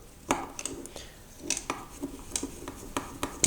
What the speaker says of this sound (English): just give a good stir.